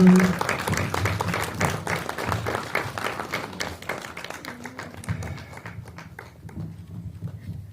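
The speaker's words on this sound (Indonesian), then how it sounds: "tepuk tangan dong." Audience applause at an Indonesian film event, a dense patter of clapping that starts loud and thins out over several seconds, with voices speaking over it toward the end.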